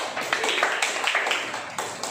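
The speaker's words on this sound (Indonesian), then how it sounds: "Ayo, berikan tepuk tangan untuk kelompok 1" Pupils in a classroom give a brief round of clapping for a group, a close, bright flurry of hand claps lasting a couple of seconds.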